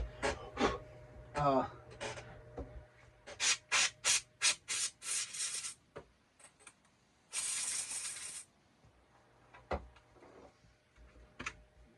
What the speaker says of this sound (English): I got an old toothbrush and I dip it in alcohol